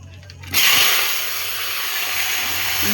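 Potatoes hit a hot pan with cumin seeds already tempering in the oil and are stirred in, letting out a sudden loud, steady hissing sizzle that holds on without a break.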